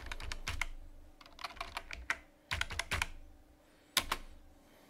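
Code is typed on a computer keyboard in quick bursts of close, crisp key clicks, separated by short pauses, with no talking.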